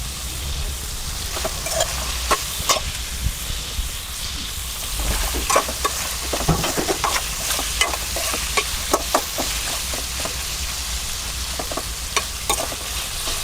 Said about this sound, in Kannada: ಎಣ್ಣೆ ತುಪ್ಪದಲ್ಲೇ ಸ್ಟಾರ್ಟಿಂಗ್ಗೆ ನಾನು ಅದನ್ನು ಫ್ರೈ ಮಾಡ್ಕೋತಾ ಇದ್ದೀನಿ